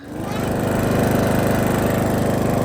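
A lawn mower engine starts and then runs steadily while mowing, with a loud, close, even, buzzing drone that holds a constant pitch after a brief rise at the start.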